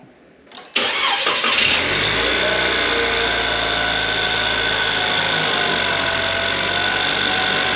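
Cadillac ATS, its coolant leak just repaired, cranks briefly after a short quiet pause, then catches and settles into a loud, steady idle close by, with no talk over it.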